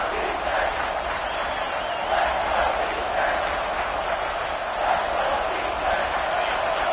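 Stadium crowd noise fills a Texas A&M vs Alabama football game as fans roar to rally the defense near the red zone, a constant distant wall of sound with a commentator talking over it.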